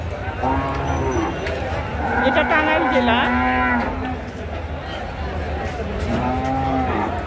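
Cattle at a busy cattle market in Tangail district, Bangladesh, lowing loudly and close, with a long drawn-out moo in the middle and another toward the end over crowd noise and a brief spoken remark.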